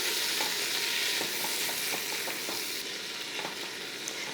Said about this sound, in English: Now it's starting to sizzle a little bit, so I'm gonna add our ham